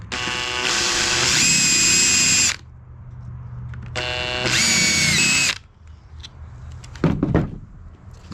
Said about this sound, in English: then I'll just do a couple pilot holes through there